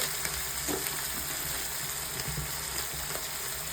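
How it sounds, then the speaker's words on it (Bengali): Spice paste with coriander and cumin powder frying in a pan for dried fish curry (shutki macher jhal): a steady, even sizzle up close, with faint stirring ticks. "ধনের গুঁড়ো, জিরের গুঁড়ো দিয়ে ভালো করে মশলাটাকে কষিয়ে নেব।"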